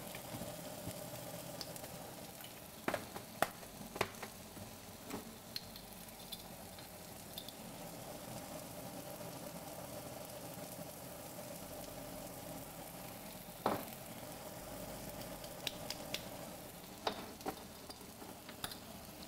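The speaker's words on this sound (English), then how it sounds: "I always find it's a good idea to kind of saute your spices a bit in the oil." Ground chili powder and cumin sauté in oil in a pan with a steady, quiet sizzle, broken now and then by the scrape of stirring and small clinks.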